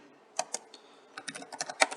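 Keys clatter on a computer keyboard in short, irregular taps, a few sparse strokes and then a quicker run of close, crisp clicks, with no voice.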